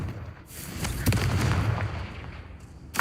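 Booming blasts from the Confringo explosion spell in Hogwarts Legacy, a low rumbling burst that swells and lingers, followed by a sharp crackling pop near the end.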